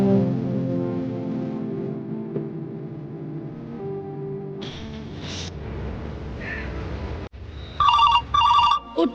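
A telephone ringtone ringing, with a warbling electronic tone in short repeated bursts arriving near the end after a stretch of lower music and background noise.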